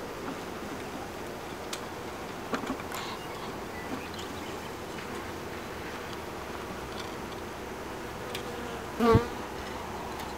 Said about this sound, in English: The bees aren't upset with me yet. They're still content.